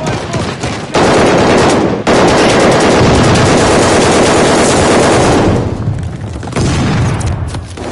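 Shooter video game gunfire fills the scene: loud, dense automatic bursts and booming shots rattle almost continuously, broken by brief gaps near one and two seconds, with the firing thinning out toward the end.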